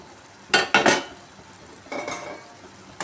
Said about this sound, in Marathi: आता हे सर्व मंद आचेवरती परतून घ्यायचं